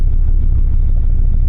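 A 1975 Mercedes-Benz 300D diesel creeps backward in reverse gear, giving a loud, low, steady engine rumble with a slight clattering texture throughout the short moment.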